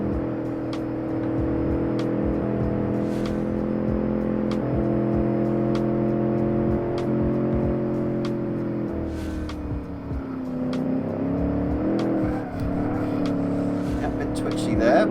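Heavy 1966 Gasmea muscle car engine racing around Road Atlanta in the Automation game, a steady loud drone that climbs and drops with gear changes through a chicane, with talk over it.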